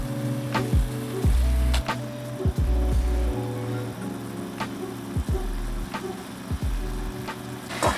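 Onions sizzle steadily in a pot as they go back in for French onion soup, a constant frying hiss under low humming tones and a few bumps from the pan, with no voices.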